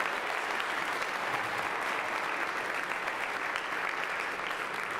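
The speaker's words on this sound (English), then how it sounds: "Another round of applause for our 8th grade." Sustained applause fills a school auditorium after an 8th grade orchestra performance at a middle school concert, steady dense clapping from the audience throughout with no voices standing out.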